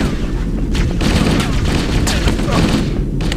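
Gunfire erupts during a firefight in the video game Halo: Combat Evolved. Rapid overlapping shots and bursts pile into a loud, continuous din, with faint voices mixed underneath.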